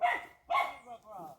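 A dog near a goat in a rural Jamaican yard gives two sharp barks followed by a softer whining yelp, fairly close and clear.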